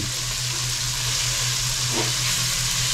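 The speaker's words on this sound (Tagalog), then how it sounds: "He is continuing the sauteing. Very hot saute." Aromatics and tomato sautéing in a very hot pan for Ilocano pakbet, a loud, steady, close sizzle with a constant frying hiss and faint stirring.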